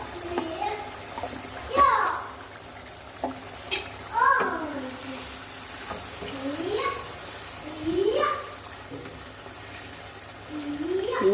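Young girl chatting to herself while playing alone, rising and falling childish vocal phrases heard repeatedly at a distance, mixed with kitchen sizzling and stirring as fish cooks nearby.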